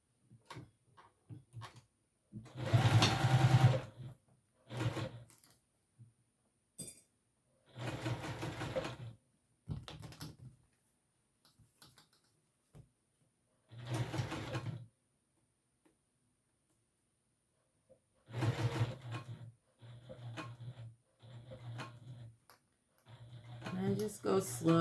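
A sewing machine sews curved seams in short repeated bursts separated by pauses, each run close and steady, while a person speaks between and over some of the stitching.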